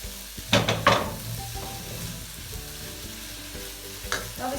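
Tomatoes tipped into a hot pan of cooked vegetables for a homemade pasta sauce, a burst of sizzling and frying followed by a steady low crackle, with a couple of brief utensil scrapes against the pan.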